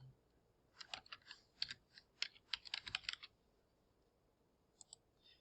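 Typing on a computer keyboard to rename a Photoshop layer: bursts of quick, light key clicks in short uneven runs, close and quiet, then a few final taps after a pause.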